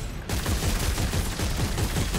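Enemy gunfire from the Dead Space 3 video game on Tau Volantis rattles in a steady, loud, rapid stream of shots that starts abruptly and continues without pause.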